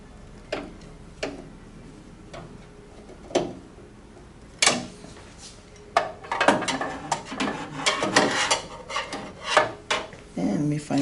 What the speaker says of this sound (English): We're going to go ahead and reinsert those screws.